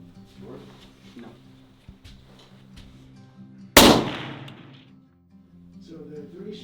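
A single loud, sharp rifle shot fired with Remington Premier long-range ammunition on a Wyoming elk hunt, cracking out close and decaying over a second, with quiet outdoor talk before and after.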